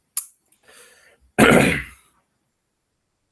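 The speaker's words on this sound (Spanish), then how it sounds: "perdonen que estoy tosiendo bastante" A sharp cough, then a short muffled sound, followed by a harsh, forceful cough or throat clearing up close, with silence between.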